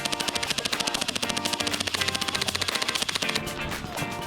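Paintball guns firing at an outdoor paintball and airsoft park during a summer event: a steady, rapid stream of loud, evenly spaced shots that continues throughout.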